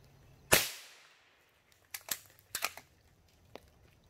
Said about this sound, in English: Shoot at that thistle plant again.